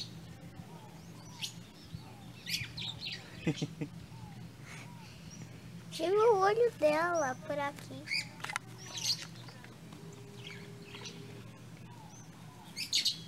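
A macaw at a farm hotel lets out a short burst of harsh, rising squawks in the middle, amid scattered chirps from other birds and conversation from people nearby.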